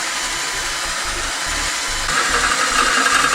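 Electric drill boring into steel while making a homemade steel dart gun, a steady close whine with rhythmic pulsing and a rise in pitch and intensity partway through.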